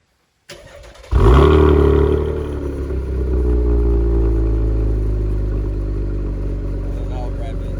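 A 2017 Chevy Camaro RS with a 350 hp engine fires up close to the exhaust, a sharp crank and catch followed by a loud, deep idle that settles into a steady rumble.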